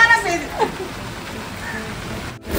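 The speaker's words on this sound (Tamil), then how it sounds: "மழை ஜோரா பெய்யுது" Heavy rain pouring down in a steady, close, hissing rush that fills the whole moment.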